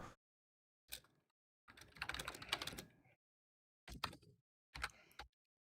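Bursts of typing on a computer keyboard, close and quiet, with silent pauses between short clusters of key clicks.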